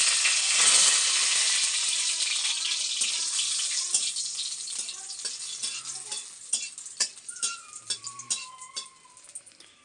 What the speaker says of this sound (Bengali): চলো শুকনো লঙ্কাটা ভেজে নিলাম